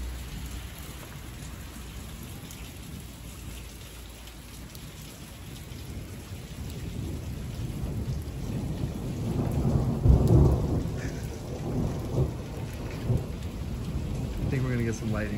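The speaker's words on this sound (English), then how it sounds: "Look at the rain starts pouring over there, and it's just heavy" Heavy rain pours steadily outside a hotel at Skyforest near Big Bear, California, while thunder rumbles and swells loudly midway, with no one speaking.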